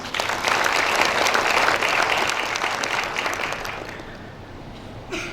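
A graduation ceremony audience at STIA Lancang Kuning in Dumai applauds to welcome a visiting professor, a dense, loud wash of clapping that swells quickly and then slowly fades, with a faint sound near the end.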